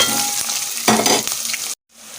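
Chopped onions drop into hot oil with bay leaf and spices, setting off a loud, close crackling sizzle. It surges as they land, keeps hissing, then breaks off suddenly.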